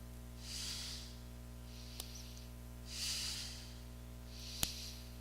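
Slow yoga breaths, with two long breathy inhale-exhale cycles close to the mic, each rushing swell of air followed by a sharp forceful puff, quiet and without talking.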